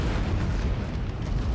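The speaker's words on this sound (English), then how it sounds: "And I got my cannons into position." Cannon fire in a Napoleon: Total War battle heard as a dense, loud, continuous rumble of booms that blend into one heavy roar, with no voices over it.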